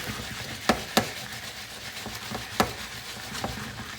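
Peppers cook in a pan with Parmesan chicken and potatoes, giving a soft, steady sizzle under a few sharp utensil taps and stirring clinks spaced across the moment.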